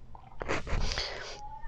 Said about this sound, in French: Je vais éternuer, je vous jure, c'est une horreur.